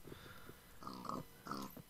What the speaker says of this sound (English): Ooh, there's a lot of piggies over here.